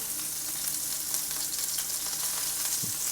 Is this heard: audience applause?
no